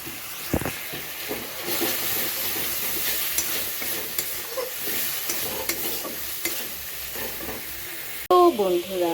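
Spice paste with turmeric and meat masala fries in a pan for a prawn, potato and pointed gourd curry, giving a loud, steady sizzle with repeated scraping stirs, then a voice speaks briefly at the end.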